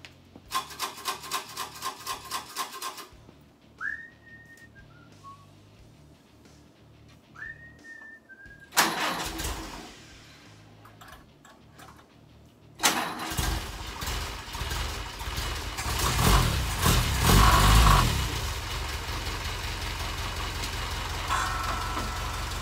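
A Willys MB jeep's starter cranks a few rapid beats before the motor catches and settles into a loud, rough idle with rattling and hiss up close.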